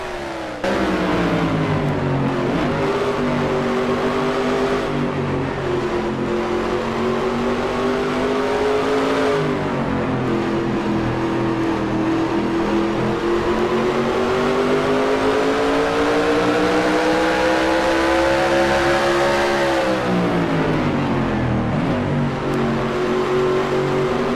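A late model race car engine on board for a lap of Rushmore in a racing video game, loud and continuous, with the pitch rising and falling through the gear changes and corners, and no talk over it.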